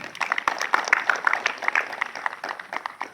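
Applause for a teacher, Ibu Rensi, at a school ceremony for National Education Day, a brief burst of scattered hand claps from a modest crowd, fairly close and dense.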